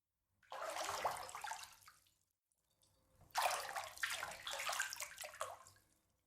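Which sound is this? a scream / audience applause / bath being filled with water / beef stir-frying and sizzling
bath being filled with water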